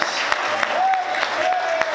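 A church congregation claps along during a Portuguese-language sermon, with a steady beat of sharp claps under a preacher's sustained voice and music.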